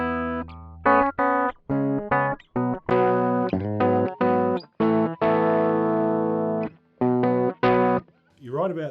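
Electric guitar run through a Boss GP-20 effects unit straight into a mixing desk, strummed in short bursts of chords and single notes with brief pauses, the unit switched off and then back on partway.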